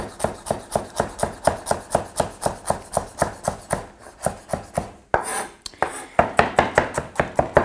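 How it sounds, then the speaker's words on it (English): A knife chops ginger and chili finely on a board, fast, even, close-up strikes in a steady rhythm, pausing briefly before resuming with a quick run of cuts. "So I'm just going to chop them up really small."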